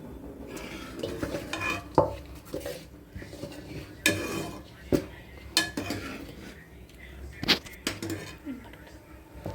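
Flour is stirred into boiling milk and water in a pot, making repeated clinks and scrapes of a spoon against the pot with some bubbling, up close. Faint talk is heard in the background.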